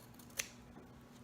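A single sharp snip of scissors cutting fabric for a zipper pouch, quick and close-up against a quiet room, with a faint second click shortly after.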